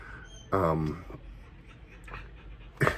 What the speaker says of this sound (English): It'll just sound like a dog crying in the background.